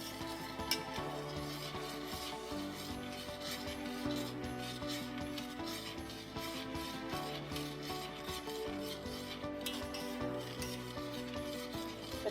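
A spoon scrapes and rubs steadily around a pot of chocolate cake mixture for Mississippi mud cake as it heats toward a boil, with rhythmic sweeping strokes and faint metallic clinks, no voices.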